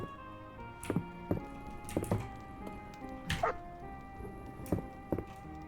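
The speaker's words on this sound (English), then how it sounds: "Puppy." A dog in the video game Fields of Mistria gives several short, soft yips and barks at irregular intervals, faint and fairly close, over a quiet game music bed.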